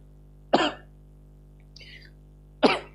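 Two sharp, close coughs about two seconds apart, with a softer throat sound between them, over a low electrical hum.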